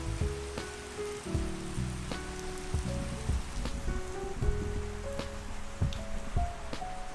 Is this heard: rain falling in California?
yes